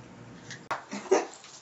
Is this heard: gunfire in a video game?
no